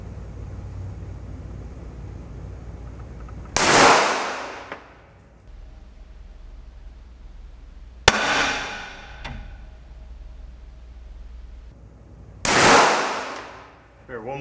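Three sharp handgun shots crack at a shooting range, spaced a few seconds apart, each with a loud, hard attack and a short echoing tail over a low steady background hum.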